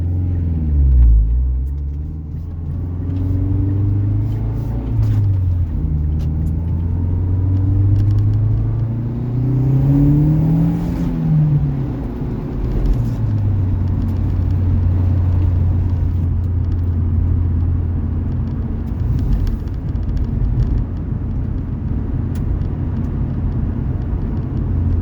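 Mazdaspeed 6 fitted with a bigger turbo and a 3-inch Corksport downpipe, driving as heard from inside the cabin: a steady low engine drone and road rumble that rises and falls with the revs, fairly subdued, with no talking.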